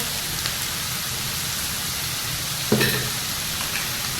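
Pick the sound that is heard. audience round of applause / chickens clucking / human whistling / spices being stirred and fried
spices being stirred and fried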